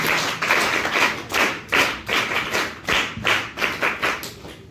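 Audience clapping during a Hindi lecture on Indian culture and spirituality, heard as rhythmic, evenly spaced claps in unison, moderately loud with no talk over it.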